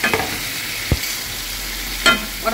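A ground masala of onion, ginger, garlic and tomato fries in a pan for chicken tikka masala, with a steady soft sizzle and a couple of brief clinks of a spoon stirring, no talking.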